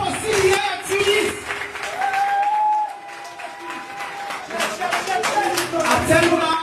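A crowd at a political gathering claps and cheers in loud, dense bursts for CDR Tunis, with a brief lull midway and shouting voices mixed through the applause.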